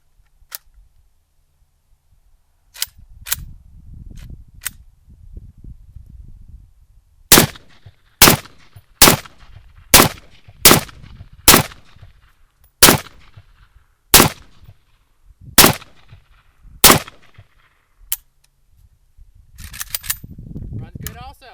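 An M95A rifle fires 62 grain Lake City penetrator rounds outdoors: about a dozen sharp, loud shots in an uneven string, some close together and some spaced out, with quiet pauses and faint talk between them.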